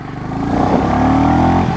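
A 2024 Royal Enfield Goan Classic 350 single-cylinder motorcycle pulls away in first gear, its loud, close exhaust rising steadily in pitch as the engine revs up, with no voices.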